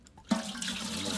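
Water runs into a cooking pot set up for boiling mud crab and corn, a steady rushing pour that begins suddenly just after the start and continues close by and fairly loud.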